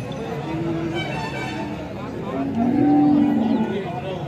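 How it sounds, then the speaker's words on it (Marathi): Jersey cows at a busy cattle market low and moo several times over a backdrop of crowd chatter and people talking nearby, the calls swelling loudest toward the end. "आपण पाहू शकता शेतकरी बांधवांची गाई आहे"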